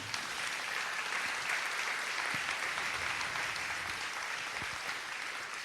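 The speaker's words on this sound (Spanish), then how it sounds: "Denle un aplauso al Señor." A church congregation applauding the Lord during a Spanish-language sermon, dense sustained clapping from many hands that fills the room evenly from start to finish.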